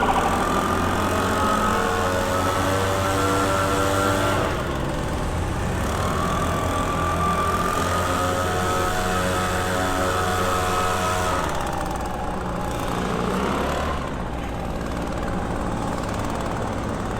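A gas-powered leaf blower's engine idles steadily, a continuous low mechanical hum with harmonic drone, close and loud, with slight pitch shifts and no talking over it.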